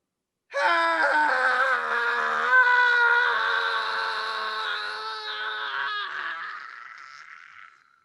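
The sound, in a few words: imitated scream mocking a movie opening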